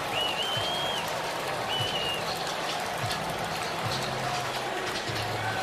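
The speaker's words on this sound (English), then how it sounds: "And a derisive cheer from the crowd." A baseball stadium crowd at a Yankees–Orioles game gives a derisive cheer after a leadoff walk, a broad, steady roar of many voices heard from afar, with a few whistles rising above it.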